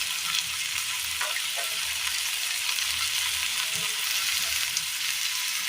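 Chopped capsicum fries in a pan for a Kerala-style vegetable stir-fry, a constant bright hiss of sizzling with faint scraping stirs mixed in and no talking.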